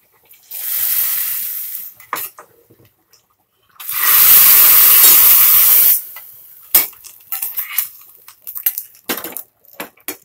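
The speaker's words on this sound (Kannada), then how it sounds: "ಈಗ ಒಗ್ಗರಣೆ ಹಾಕ್ಕೊಳ್ಳೋಣ." Hot tempering poured into boiling basale leaf sambar gives a loud, steady hiss and sizzle for about two seconds, then a longer burst, followed by scattered clinks and spatters of pans and utensils.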